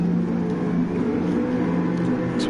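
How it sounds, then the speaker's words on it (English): A car engine in a racing video game hums steadily with a low, sustained drone and a faint whir on top, no clear surge, continuous for the whole stretch. "we'll hear the revs rise and we'll hear the clutch drop"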